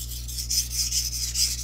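A paring knife is sharpened by hand with very light pressure. About six soft, even rasping strokes of steel on stone follow one another in a steady rhythm, close up and alone.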